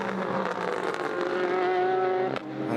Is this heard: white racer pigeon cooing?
no